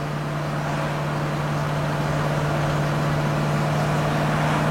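A car on a road test drive, its steady engine and road noise droning continuously with a strong low hum throughout, no talking.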